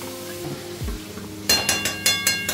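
Mutton being stir-fried in a pan for a Bengali mutton curry, a quiet low start followed by a run of sharp, rhythmic scraping and sizzling strokes, about five close, bright pulses.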